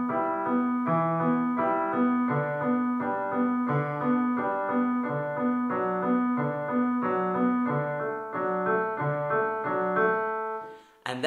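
Piano playing the left-hand part of a piece: a steady, repeating broken-chord pattern at a moderate tempo, clear and close, alone with no voices, fading at the end.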